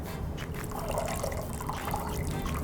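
Softened noodles lifted with tongs out of their soaking water, giving a continuous close trickle and splashy dripping.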